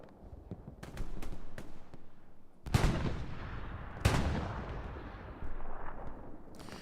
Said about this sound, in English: all 3 guns going at the same time